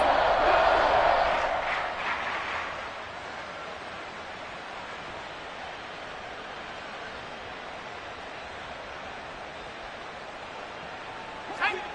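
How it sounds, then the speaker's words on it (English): Football stadium crowd cheering and roaring during an NFL game between Detroit and Chicago, a loud swell at first that eases into a steady, distant wash of crowd noise, with a brief spike near the end. "This crowd turning up the decibel level."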